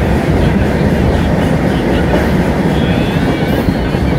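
Janmabhoomi Express pulling into Annavaram station platform, a loud, continuous rumble and rattle of wheels on track with faint clickety-clack, close and unbroken throughout.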